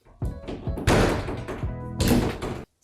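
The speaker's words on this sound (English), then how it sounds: "these doors are so hard to open and close and they're so loud" Closet double doors in a hallway being opened and closed, hard to move and loud, giving a string of close wooden thunks, taps and knocks with scraping between them, a heavy thud near the middle and another toward the end.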